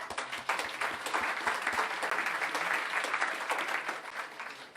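A crowd at a political party meeting applauds steadily for several seconds, a dense wash of clapping that swells and then tapers slightly.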